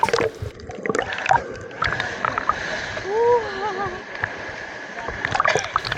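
Strong sea waves at El Nido in the Philippines wash and splash close by, with a choppy watery rush under people talking nearby.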